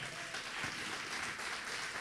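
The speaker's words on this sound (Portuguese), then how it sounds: "Vamos aplaudir o Senhor." A church congregation applauds during a sermon, a dense, steady wash of many hands clapping at low level throughout the short stretch.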